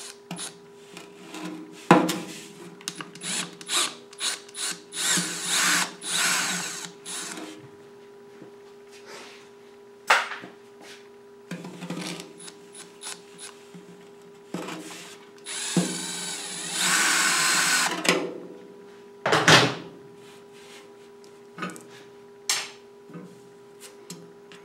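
Power tool loosening two bolts on the handlebar springs of a Frazer B1-7 rototiller, heard as repeated short bursts of whirring and rattling with quieter pauses, workshop clanks in between, close and fairly loud.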